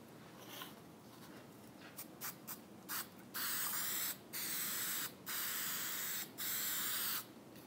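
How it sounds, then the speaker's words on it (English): Super 77 spray adhesive sprayed onto an aluminum sheet: a few short hissing spurts, then four long, steady, loud sprays with brief pauses between them. "So I'm going to use this Super 77. I'm going to spray it on one piece"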